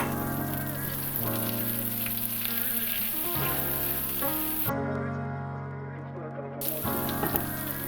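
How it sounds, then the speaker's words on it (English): Fresh organic ginger and spice seeds frying in hot oil, a steady close sizzle with scattered seed pops throughout, under a sustained tonal background. "The seeds are popping and the ginger is getting brown."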